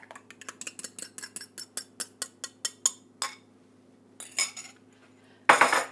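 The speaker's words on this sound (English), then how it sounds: "the next step is to empty your cauliflower rice into the bowl" Cauliflower rice is tipped into a bowl for a gluten-free pizza crust, with a quick, regular series of light utensil clinks and scrapes, a short pause, then a few louder scrapes and a final burst.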